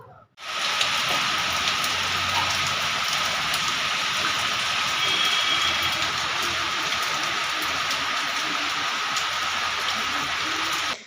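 Steady rain falls in a dense, even hiss of drops on surfaces, close and fairly loud, continuing without pause for the whole stretch with no voices.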